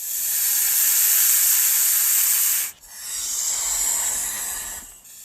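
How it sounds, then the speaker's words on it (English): Sustained, loud broadband hiss from a snake, running steadily for about two and a half seconds, breaking off briefly, then returning for a second long hiss before fading. "snake"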